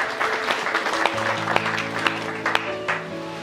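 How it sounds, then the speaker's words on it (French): A church congregation claps for a scripture reading at a prayer festival, a steady wash of many hands under sustained organ or keyboard chords, with a few sharper claps standing out. "Let us clap our hands for that scripture."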